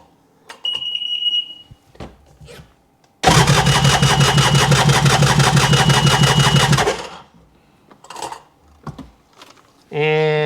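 After a few clicks and a short beep, an engine cranks and rumbles to life, running loudly for several seconds before cutting off amid more clicks and tones.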